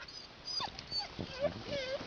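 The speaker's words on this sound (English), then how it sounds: "Dog is crying." A dog whimpers and cries in thin, high whines that rise and waver several times, fairly faint, over a muffled, noisy background with possible voices.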